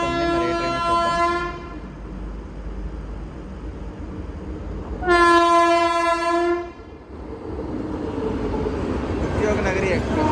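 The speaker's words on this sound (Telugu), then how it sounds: "ఉద్యోగనగరి ఎక్స్ప్రెస్, లోకమాన్య తిలక్ ప్రతాప్గఢ్ ఉద్యోగనగరి ఎక్స్ప్రెస్." Udyog Nagari Express (Lokmanya Tilak–Pratapgarh) crossing on the railway, with two loud, sustained multi-tone horn blasts over a steady rumble of passing coaches.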